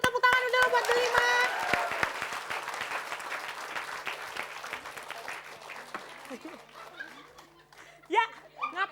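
Enthusiastic crowd applause greets the group Delima on a comedy variety show, loud dense clapping mixed with chuckles, laughter and crowd voices, then thinning into scattered voices as it dies away.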